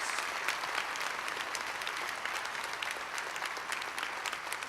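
A crowd at a college convocation applauds steadily, a dense wash of clapping hands that holds at an even level throughout.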